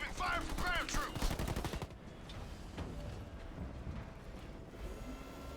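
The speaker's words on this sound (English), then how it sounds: "Receiving fire from ground troops." Real-time strategy game battle during a 2v2 tournament match, with a rapid burst of automatic gunfire up front that gives way to a duller rumble of distant fire and unit noise.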